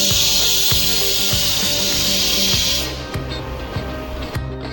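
A pressure cooker whistles: a loud, steady hiss of escaping steam runs for about three seconds and then cuts off, with a regular rattling pulse underneath throughout.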